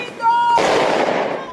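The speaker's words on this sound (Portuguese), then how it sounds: "Um grupo soltou fogos de artifício em frente à PF para comemorar as prisões." Outside the Federal Police building in Lapa, São Paulo, a group sets off fireworks to celebrate arrests: a sudden loud, sustained crackling burst erupts after a faint tonal note, staying dense and noisy for over a second.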